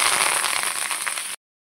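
Curry leaves crackling in hot oil for a tempering, a dense close sputter and sizzle with scattered pops that cuts off abruptly, no voices.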